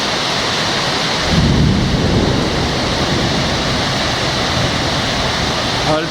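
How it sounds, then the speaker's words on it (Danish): Heavy rain pours inside an airport hangar in Medan, Indonesia, a loud, steady broadband roar with deep rumbling underneath, continuous throughout. "Prøv at se her, hvordan det regner inde i hangaren."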